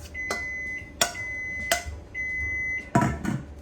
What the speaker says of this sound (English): sorry about my timer going off.